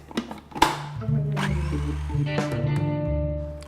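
A food processor whirring steadily as it blends pesto with lemon while oil is added, a close motor hum that starts after a few clunks and runs to the end.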